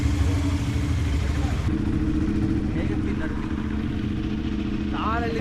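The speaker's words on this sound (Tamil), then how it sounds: "ஏதோ ஒரு வண்டி வர மாதிரி இருக்குது" A vehicle approaches along a road in light drizzle: a mid-pitched engine hum that holds steady and rises slightly near the end, with faint voices underneath.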